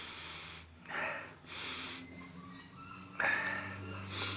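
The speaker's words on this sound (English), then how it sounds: "you're just snuffing a little bit of the scent through a little hole" Close, breathy sniffs taken through a small hole in a tin of Pöschl Löwen-Prise nasal snuff, about three short inhalations spaced a second or so apart, quiet and intimate.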